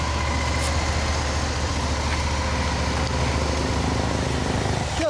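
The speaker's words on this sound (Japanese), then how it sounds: "エンジン音聞かせてもらえるかな" A 2014 Honda CBF125 sits at idle, its engine giving a steady, close, unbroken low putter that holds even throughout, with no talking over it.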